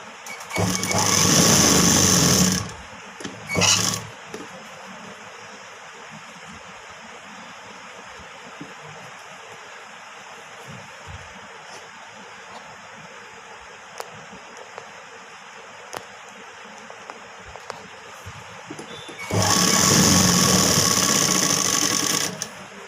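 A sewing machine stitches piping onto sleeve lining. It runs in a loud, close whirring burst, stops, gives a brief second spurt, then falls quiet for a long stretch before running again near the end.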